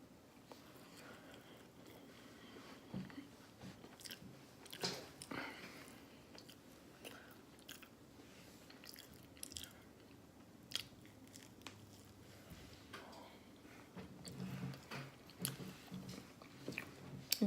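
Eating noises from a breakfast mukbang, with a stack of Eggo waffles topped with butter and syrup being chewed. Close, fairly quiet mouth sounds of biting, crunching and wet chewing come in irregular bursts, and nobody talks.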